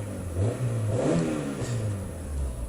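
A Peugeot 206 LX petrol engine revs up and settles, a mid-pitched rising and falling drone heard up close and fairly loud, with no voices over it.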